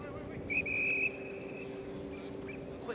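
A referee's whistle sounds during a ball game at the Joe Barry Memorial Cup, one clear shrill blast lasting about half a second, with faint crowd and background noise around it.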